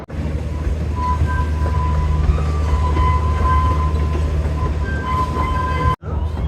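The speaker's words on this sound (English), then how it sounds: "And here comes the train. Incredibly busy train today." A roller coaster train at Blackpool Pleasure Beach rumbles past steadily with low heavy roar and faint metallic squeals, continuous and fairly close, ending with a brief cut.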